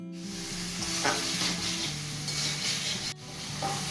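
Ghugni spices with sugar and green chillies sizzling and frying in a pan while being stirred, a steady close crackle with light scraping of the spoon throughout.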